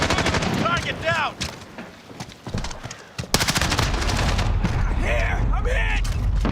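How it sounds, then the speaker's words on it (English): Rapid bursts of gunfire in a shooter video game, loud and repeated in clusters, with a synthetic voice speaking over parts of the action and a sharp burst of shots near the middle. "Still firing."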